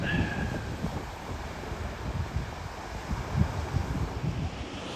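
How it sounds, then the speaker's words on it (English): Ocean waves breaking on Bournemouth beach, a steady broadband wash with low surging swells, heavily mixed with wind buffeting the microphone throughout. "Decent waves though"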